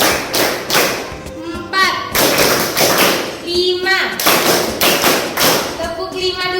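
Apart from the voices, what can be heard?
children clapping hands in a counting game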